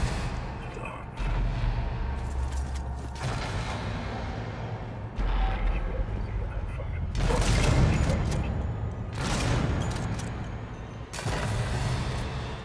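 Bursts of gunfire in the video game Alien: Isolation come in clusters with short gaps between them, loud and booming, with talk faintly underneath.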